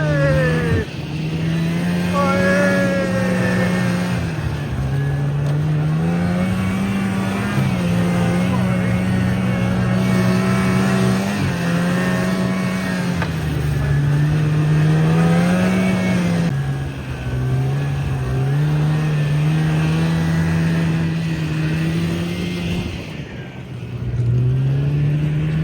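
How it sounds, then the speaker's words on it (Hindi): Snowmobile engine on a snow ride in Kashmir drones loudly and close, its pitch wavering up and down as the throttle shifts, with voices talking over it throughout. "आपने ये स्नो बाइक की राइड देखी"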